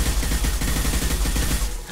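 Continuous, rapid, thudding gunfire in Mass Effect 2, loud and dense throughout the short stretch, with no voices over it.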